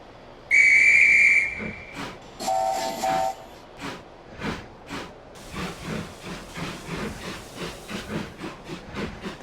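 Steam whistles from model railway engines shrill twice in succession, one high and one lower, then the engines chuff out of the station with steady rhythmic puffs and hissing steam that build and quicken.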